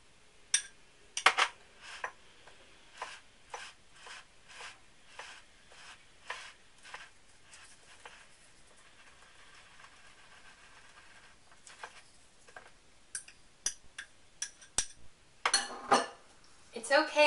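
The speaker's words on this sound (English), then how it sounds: "Making sure to get all of the dry ingredients wet" A spoon scrapes and clinks against a bowl in repeated, uneven strokes while banana chocolate chip muffin batter is stirred until the dry ingredients are wet, close and fairly quiet, with the strokes quickening toward the end.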